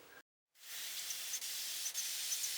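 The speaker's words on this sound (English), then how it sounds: "We can spray this again, just to check" A steady, fine hissing spray from an airbrush being cleaned starts after a brief silence and continues evenly, close and fairly loud, with slight dips in intensity.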